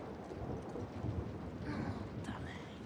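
A thunderstorm rumbles in The Last of Us Part II, a steady low roar of rain and thunder at moderate loudness, with a faint brighter swish partway through.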